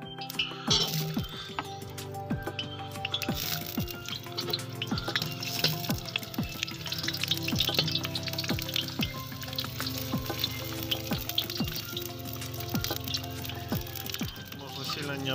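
Onion frying in smoking-hot oil in a kazan, cooked outdoors in a village, gives a steady dense sizzle with crackling pops throughout, close and continuous, while someone talks over it.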